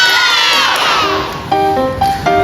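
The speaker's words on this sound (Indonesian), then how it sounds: "Tepuk tangan." A classroom full of children erupts in a short, loud burst of cheering and shouting, bright and excited, with several voices calling out over one another.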